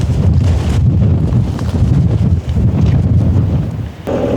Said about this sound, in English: I've forgotten my tripod, so it's really windy out here